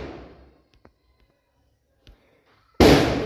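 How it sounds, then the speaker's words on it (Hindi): Diwali firecrackers: a loud burst near the start fading out, a couple of faint pops in the quiet middle, then a sudden, sharp, loud blast that keeps roaring to the end. "दीपावली का समय है तो पटाखे बज रहे हैं"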